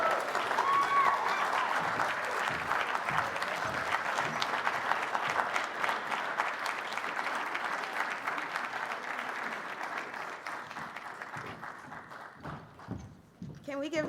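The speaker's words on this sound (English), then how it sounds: "Can we give Tayari another round of applause?" Sustained applause from a lecture audience, many hands clapping steadily at close range and fading slightly toward the end.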